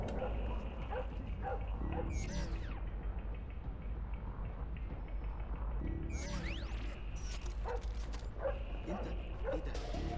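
A dog barks and yips inside the stealth video game Splinter Cell: Blacklist, with repeated barks over steady game background noise and someone talking over it.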